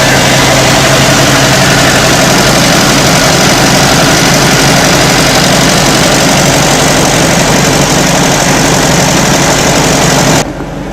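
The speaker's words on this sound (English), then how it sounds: "Look at this great old engine." An old engine idles steadily at close range, a loud continuous low rumble and mechanical clatter running unbroken until it cuts off abruptly near the end, at an outdoor winter carnival.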